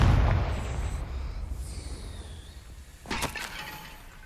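A Confringo blasting spell goes off in Hogwarts Legacy, a burst of crackling, shattering blast noise that rises sharply a few seconds in over a rumbling game backdrop, with no talk.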